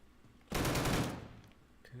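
A turret in the Deadside shooter fires a sudden loud burst of rapid automatic gunfire that rings on and then decays, with a faint quieter shot near the end.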